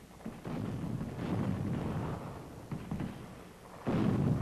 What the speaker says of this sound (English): French artillery pounds Toulon prior to the fall of the naval base